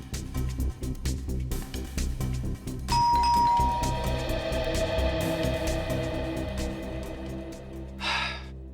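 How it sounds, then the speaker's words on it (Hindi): A doorbell rings at a house in a Hindi crime drama, a clear ding-dong chime sounding and ringing on over a low background score, with breathy gasps and sighs near the end. "आप एक बार और घंटी बजाने का कष्ट करेंगे?"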